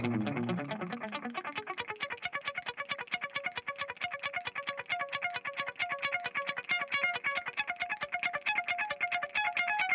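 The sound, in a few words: analog delay echo repeats on guitar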